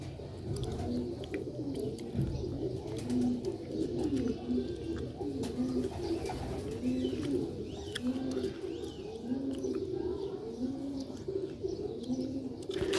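A pair of Sialkoti pigeons coo steadily, their soft, rolling low calls repeating in overlapping phrases over a constant faint background hum.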